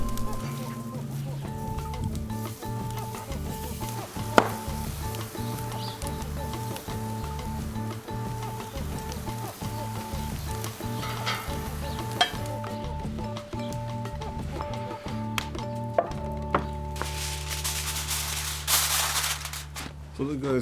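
Pork chops sizzle on a firepit grill with a steady, close hiss, and occasional clinks of tools sound throughout. A person talks over the cooking.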